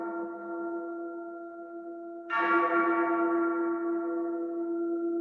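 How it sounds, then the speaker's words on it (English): Death bells toll at the opening of a rock song, a sustained ringing church-bell tone that swells sharply partway through into a louder, brighter strike and then holds with a long resonant decay, with no voices. "in the beginning of the song, the sound of the bells are the sound of the death bells"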